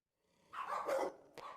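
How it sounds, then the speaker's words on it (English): A dog in a kennel barks in a short burst of yelping, agitated sounds at close range, followed by a brief sharp yip. "the dog is at the front of the kennel, persistently barking"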